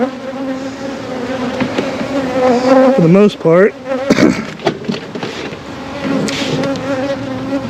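A honeybee swarm hums loudly and steadily at close range after being moved into a box. Someone speaks briefly partway through.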